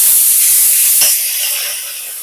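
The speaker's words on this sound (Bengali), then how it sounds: "আদাটাকেও ভালো করে ভেজে নেব।" Ginger paste dropped into hot oil for a light raw papaya vegetarian dish sends up a loud, sharp hiss and spatter that flares once, then settles into a softer, fading sizzle.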